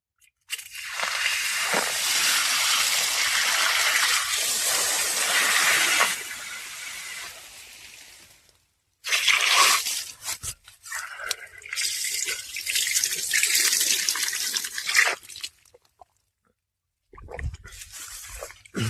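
Water gushing from a farm pipeline filter fed by a motor, a loud steady splashing flow that stops, returns in uneven surges and then fades, with no talking.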